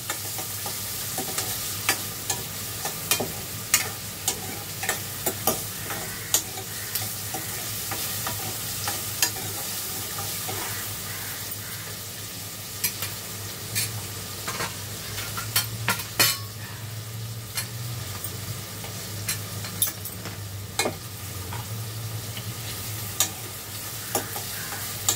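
Onion frying until soft in a pan for a fasting-day meal: a steady low sizzle runs throughout, broken by repeated sharp clinks and scrapes of a spoon stirring against the pan, with no talking.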